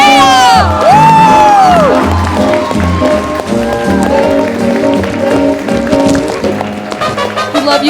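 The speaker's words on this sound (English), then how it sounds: "big round of applause for our director and writer, Naya!" An audience at a stage play bursts into loud applause, cheering and high whoops, a dense crowd roar that stays strong throughout with sharp shrill cries rising near the start.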